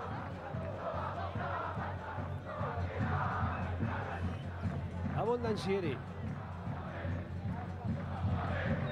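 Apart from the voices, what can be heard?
stadium crowd applauding Boca Juniors substitute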